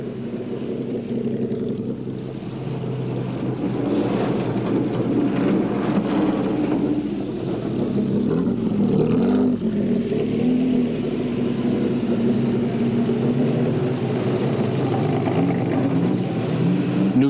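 Cars rev and creep aboard a rail car-shuttle train bound for the Saint-Gotthard tunnel in the snowy Alps, including an Aston Martin, giving a steady close engine rumble with a mid-clip surge of acceleration.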